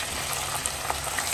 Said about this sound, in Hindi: अब मैं ये चिकन को इसमें डालकर इसे फ्राई करूंगी।